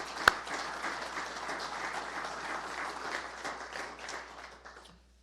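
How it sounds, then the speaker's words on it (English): An audience gives a round of applause at a university athletics giving week kickoff event; steady, broad clapping from a crowd fills the room for about five seconds after one sharp opening clap, then fades out near the end. "give a round of applause to Chancellor Smith for his donation"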